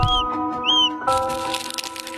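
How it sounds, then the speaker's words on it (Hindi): A cuckoo chick breaking out of its egg inside an incubator: thin high chirps and small taps at first, then a burst of close, dry crackling shell noise. "हमारी पहली कोयल अंडे से बाहर निकलने लगी"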